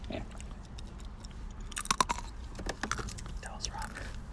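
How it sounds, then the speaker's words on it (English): Someone chews food right against a microphone, wet crunching and biting bursts and lip smacks up close, soft and irregular over a quiet room hiss. "He wants you to hear him chew."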